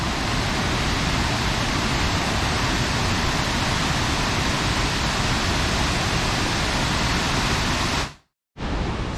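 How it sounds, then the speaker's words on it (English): Clifty Falls waterfall roars in a steady, dense rush of falling water, loud and constant, cutting out abruptly for a moment near the end. "the waterfall will have actually shifted 1 more foot that way"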